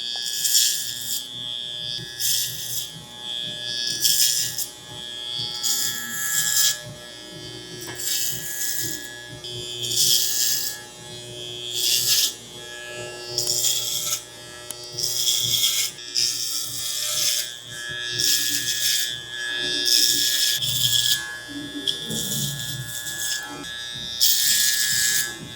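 Hair clippers with a number 3 guard debulk curly hair, a close buzzing hum cutting in and out in repeated passes of a second or two each over the whole stretch, with brief quiet gaps between strokes.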